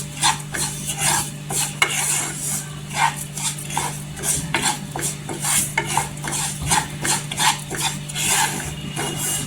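Barnyard millet (varai) dry-roasting in a pan on a low gas flame, a rhythmic scraping stir of the spoon through the grains over a steady low hum, close and fairly loud.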